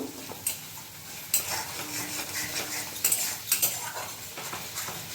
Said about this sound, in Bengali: এটা ভালোভাবে 1 মিনিট আমি কষে নেব